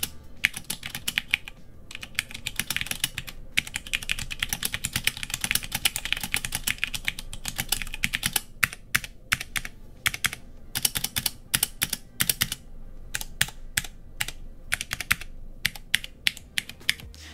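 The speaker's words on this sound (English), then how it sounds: "compared to other Brown switches I've used, this is by far the best feeling and sounding" Rapid typing on an Abkoncore AR87 full-aluminum mechanical keyboard with brown switches and thin low-profile keycaps: dense, steady clacking keystrokes run close and clear with a few brief pauses, no voices.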